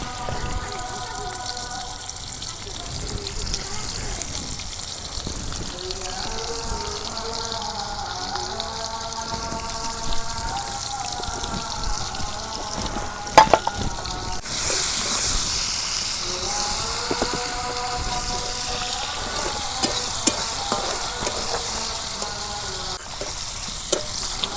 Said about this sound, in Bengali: গরম হচ্ছে, এখন দিয়ে দিব পেঁয়াজ কুচি